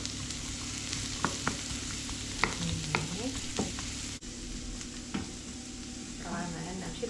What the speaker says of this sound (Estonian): Praeme ennem sibule.